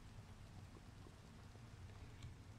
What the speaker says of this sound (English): look, it's starting to rain too. All the weather's happening.